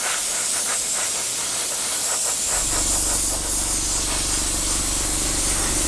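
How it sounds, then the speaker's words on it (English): A close, steady hiss of an airbrush spraying paint onto a 1/48 scale Spitfire model wing runs throughout, with a low mechanical hum kicking in partway and continuing under the spray. "say a normal proper coat of paint"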